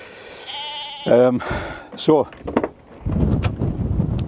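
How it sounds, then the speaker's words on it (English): Sheep bleat several times in an outdoor field beside a VW Transporter T5 campervan, wavering calls at close range, while someone talks over and between them. "got the sheep right there, and Bracken's just not fazed."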